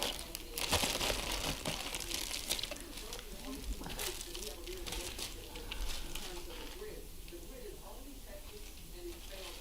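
Paper crinkling and rustling while mail is unpacked, a steady close crackle with a few sharper crumples, running throughout under a quiet room background.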